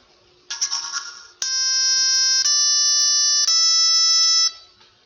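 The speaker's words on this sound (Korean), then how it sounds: "레 도레미를 한번 이렇게 연주해 보겠습니다." A LEGO EV3 programmable brick plays a sequence of clear electronic beep tones, one after another in steady steps, loud and alone after a short buzzy blip.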